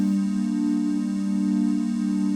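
A Novation Circuit synthesizer holds one tied chord, steady and unbroken, with a soft pulsing shimmer in the tone and no pauses.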